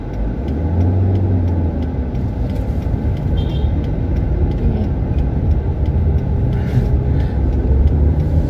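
A car's engine drones and rumbles steadily as the driver presses the gas going uphill during a driving lesson, a loud, continuous low hum with road noise and faint chimes.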